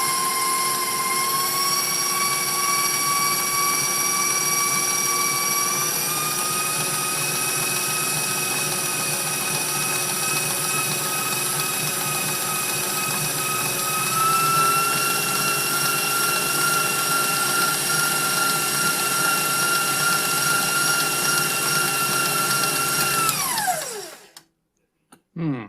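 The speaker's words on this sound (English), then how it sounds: "Whisk this all up." An electric mixer whisks ingredients for lavender Earl Grey cookies, a steady loud whirring motor with a sharp harmonic whine that steps up in pitch partway through, then winds down and stops near the end.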